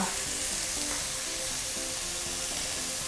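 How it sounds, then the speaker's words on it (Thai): Mushrooms stir-frying in a wok with oyster sauce, sugar and soy sauce give a steady, close, continuous sizzle with soft stirring underneath and no talking. "แล้วก็สีอิ่วขาวนะคะ ผัดให้เข้ากันเลยค่ะ"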